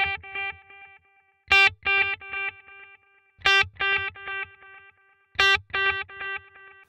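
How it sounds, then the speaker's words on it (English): Electric guitar through a Headrush pedalboard with 3/16 and quarter note delays combined, playing a repeating bright phrase, each note followed by a cascade of rhythmic echoes, clear and alone. "what's going to happen if we combine the 3/16 and the quarter note delay together?"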